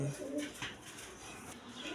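Pigeons coo softly in a loft, a low, faint murmur of repeated calls with no talk.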